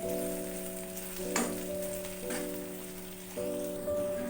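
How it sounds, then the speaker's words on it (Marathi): Tomatoes sauté in hot oil with a continuous crackling sizzle, broken by a few stirring scrapes, while a steady tonal hum runs underneath. "टोमॅटोही छान असा परतवून घ्यायचा आहे तेलामध्ये"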